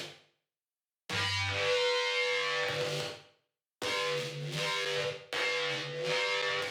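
Synthesized noise processed with reverb, harsh frequencies removed and a delay, giving a metallic ring; several sustained bursts start abruptly and tail off, separated by short silences.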